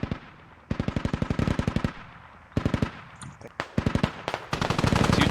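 Rapid machine-gun bursts ring out in a military video game match, loud, close strings of sharp shots in repeated volleys with short pauses, plus scattered single cracks.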